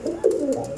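A pair of Andhra pigeons coo close by, one short, throaty burst of soft rolling coos that rise and fall, with no talk.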